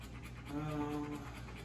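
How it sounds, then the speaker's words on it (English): A dog pants rapidly and steadily up close after a run in hot weather, quick rhythmic breaths with a faint whine-like tone underneath. "She just ran, so she is panting because it's really hot outside."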